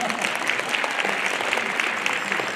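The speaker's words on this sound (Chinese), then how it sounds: "我们为我们鼓掌一下好吧" A church congregation at a Lunar New Year gala applauds, a dense steady clapping from many hands filling the room for a few seconds, fairly loud and close.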